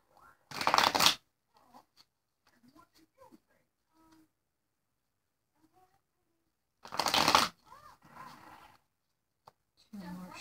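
Tarot cards are shuffled in two brief, crisp riffling bursts several seconds apart, close and clear, with faint small handling noises in the quiet between them and a light voice near the end.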